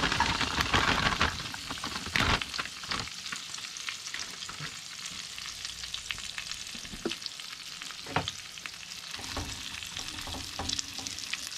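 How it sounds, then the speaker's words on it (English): Ravioli fry in melted butter in a pan, a continuous close sizzle and crackle with occasional stirring knocks and scrapes running throughout. "melt some butter in a pan and start cooking your ravioli"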